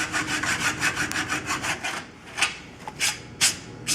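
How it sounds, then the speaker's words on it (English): A hacksaw cutting through a board, about a dozen quick, rhythmic rasping strokes close up, then a brief pause and a few slower, sharper strokes. "once you start cutting into the board, it's hard to correct the hacksaw blade."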